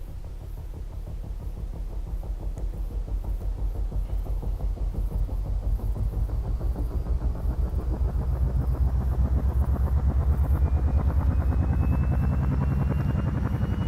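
A helicopter in the video game ArmA spools up, its rotor thump pulsing rhythmically and quickening while the loud engine drone swells and a thin whine rises in pitch over about fourteen seconds.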